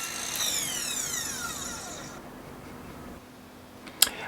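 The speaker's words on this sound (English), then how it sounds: "I used a cordless chop saw for quickly and precisely cutting off the lengths of" A cordless chop saw cuts through a length of softwood timber, a high whirring blade that winds down after the cut, followed by a sharp knock.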